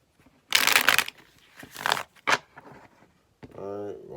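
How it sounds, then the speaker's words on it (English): Bursts of riffling and flapping as a deck of cards is shuffled, several quick rustles in a row, close up, ending with a short voiced sound. "I'm gonna get that one more shuffle."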